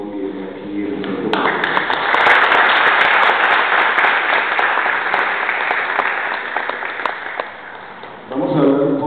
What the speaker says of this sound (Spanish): vamos a iniciar la noche dándonos un aplauso por esta maravillosa reunión que tenemos hoy aquí en el centro